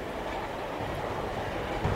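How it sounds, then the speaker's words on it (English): Freight train in a train simulator game rolling along with a steady, dense rumble and wheel noise, continuous and fairly loud with no talk. "Enormous freight trains."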